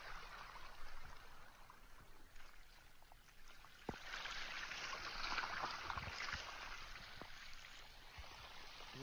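Rainwater that has turned into a stream during very heavy rain flows through a forest, a faint, steady trickling rush with a few soft knocks and no speech.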